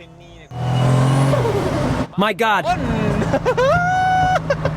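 A 500 HP Toyota Cresta revving hard from inside the cabin, with a loud sustained engine roar, then sharp turbo flutter and rising-falling revs; passengers exclaim over it.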